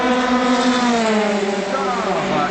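Race cars at speed on the circuit during the 24 Hours of Le Mans, a continuous loud engine whine with a pitch sweeping downward as a car passes, with commentary voice over it.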